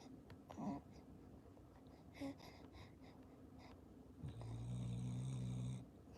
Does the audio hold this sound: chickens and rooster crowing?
no